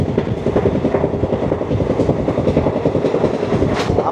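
The Paharia Express rolls along the rails past Eklakhi Junction, giving a continuous, close, loud rumble with a fast rhythmic pulsing of wheels on track and no voices.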